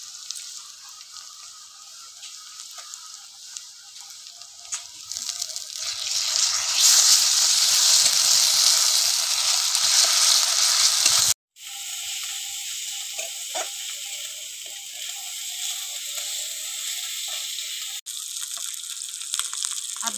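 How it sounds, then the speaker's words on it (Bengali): Ginger garlic paste hits browned onions in a hot pan with a loud, steady sizzle that swells, cuts out briefly, then carries on at a slightly lower level. "এবার আমি এর মধ্যে দিয়ে দেবো আদা রসুন বাটা।"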